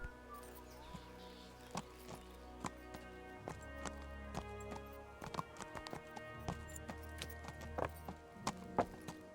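Horse hooves clip-clop steadily in the medieval game Kingdom Come: Deliverance, a brisk rhythmic trot of sharp, close hoofbeats over a low ambient drone with faint birdsong.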